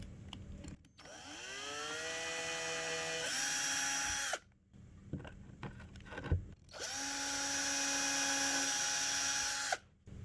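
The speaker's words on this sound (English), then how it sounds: "drill your 2 little pilot holes for your screws" A small power drill whirs twice in short bursts, boring small pilot holes about half an inch deep in wood, spinning up and holding a steady high pitch, with quiet pauses and handling clicks between.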